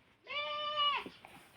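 A voice imitates a goat's bleat, a single drawn-out, wavering bleat held for under a second, close and clear in a quiet room, with faint murmurs after.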